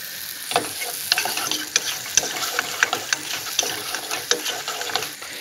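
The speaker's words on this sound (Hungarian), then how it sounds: "Fokhagymát is teszünk bele, ezt is egy picit megpirítjuk." Garlic and onion fry in hot oil in a pan, giving a steady, fairly quiet sizzle with frequent sharp clicks and scrapes of stirring spread throughout, with no talking.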